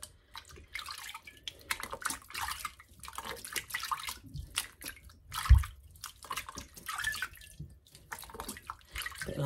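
Cold water runs steadily from a kitchen tap while homemade butter is rinsed, a continuous hissing splash with uneven surges and a few louder spatters, with no voices.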